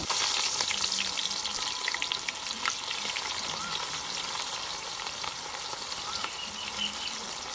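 Curry leaves, cinnamon sticks, cardamom pods and sliced onion fry in hot oil for pulao, giving a steady close sizzle and crackle with faint stirring, and no voices.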